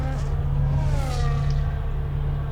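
An Alpine race car overtakes during the Grand Prix at COTA, its engine a loud, sustained roar with a pitch that climbs and shifts across the pass.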